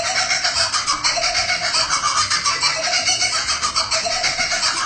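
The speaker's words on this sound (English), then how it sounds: "It was actually the sped up laughter of the kookaburra. It's a kingfisher bird found in Australia" Sped-up laughing call of a kookaburra, the Australian kingfisher, a loud continuous run of rapid, rhythmic cackling notes that fills the whole stretch alone.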